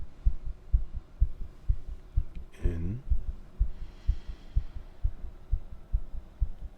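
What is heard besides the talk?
heartbeat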